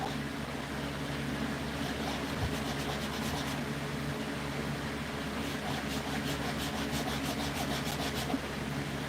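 A wider chisel works steadily at a Buck 110 knife, making a soft, continuous scraping and rubbing with a faint rhythmic pulse, close and fairly quiet, with no talking.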